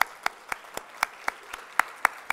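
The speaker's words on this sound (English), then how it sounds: "we'd like to give him applause for him" A scattered handful of claps, loose and unevenly spaced, comes from a luncheon audience applauding a sheriff. The applause is sparse and fairly faint with no talk over it.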